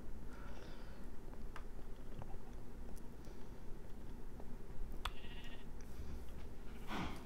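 Sheep in the Minecraft video game bleat in a few short, fairly faint cries spread over a steady low background hum, with no talking.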